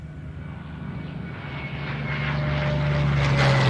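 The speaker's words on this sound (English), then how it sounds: "Our B-17's on its last pass" A B-17 bomber makes a low flyby at an airshow. Its piston engines and propellers drone steadily and grow louder as it approaches. No voices are heard.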